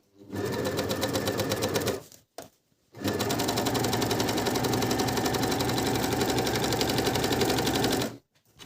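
An overlock sewing machine with left and right needles stitches a seam in two bursts, a loud fast rattling whir for about two seconds, a short pause, then a longer steady run of roughly five seconds before stopping.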